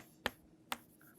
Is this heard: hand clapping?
yes